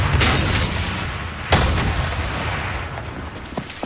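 Heavy French and German artillery fire at the Meuse River in May 1940, carried as a dense continuous roar of distant booms and rumbling blasts, with one sharp, louder shot cutting through midway.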